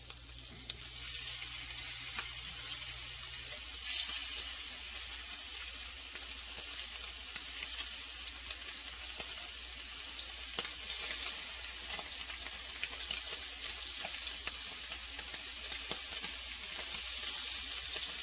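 Scallops sear in a hot pan with a steady, bright sizzle that holds evenly throughout, close and continuous with faint stirring underneath.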